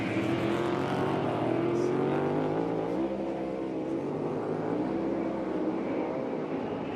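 A NASCAR Cup Series stock car, the 24 car, races on track at speed with a loud, steady engine roar and shifting pitch that holds for the whole stretch, with crowd and track noise blended underneath.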